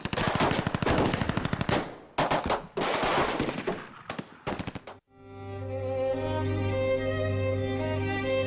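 Bursts of rapid machine-gun fire in an animated film ambush, loud and close, come in several clattering volleys broken by brief pauses, then give way to a sustained tonal drone.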